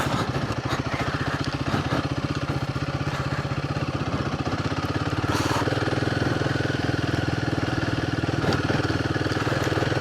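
A Royal Enfield Himalayan 450 motorcycle ridden off-road through long grass, its single-cylinder engine thrumming steadily and close throughout, with clattering and wind over the top.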